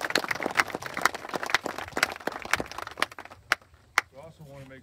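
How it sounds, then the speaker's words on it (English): Applause at an outdoor statue dedication ceremony in Niobrara for Chief Standing Bear: sharp individual claps from a modest crowd that thin out into scattered final claps, with a faint voice near the end. "Give them a round of applause."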